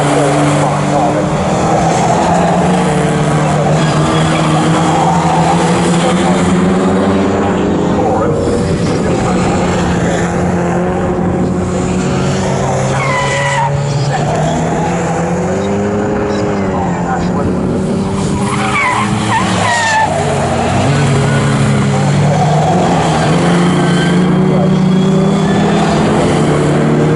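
A pack of about 35 GTS race cars at Snetterton circuit, engines droning loudly and steadily with rising and falling pitch sweeps as they pass, under continuous race commentary.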